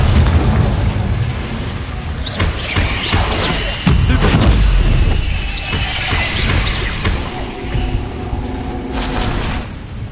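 Confringo blasting spells and other spell impacts in a Hogwarts Legacy fight against spiders, a run of loud booming blasts and crashes at close range, with the heaviest hit near the middle and a constant roar of combat between them.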